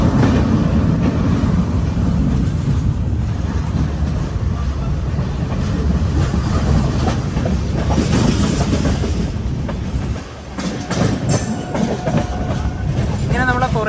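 The Aronai Express, a long-distance Indian train, rolls along the rails with a loud, steady rumble and rhythmic wheel clatter that continues throughout, briefly dipping near the end before surging again.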